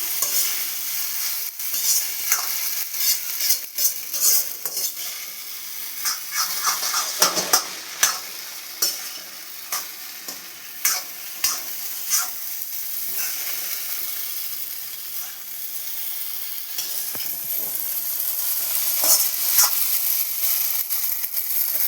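Egg noodles stirred and fried in a pan: a steady close sizzle runs throughout, broken by frequent scraping and clinking strokes of a utensil against the metal, with no talking.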